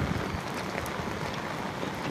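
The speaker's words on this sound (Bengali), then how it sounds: "বৃষ্টি পড়তেছে, বৃষ্টি ভেজা জায়গাটা একটু অন্যরকম মনে হচ্ছে" Steady rain falls in a corner of a factory compound during the monsoon, an even broadband hiss of drops hitting surfaces that holds at the same loudness throughout, with no voices.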